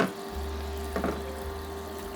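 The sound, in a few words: small water fountain pump bubbling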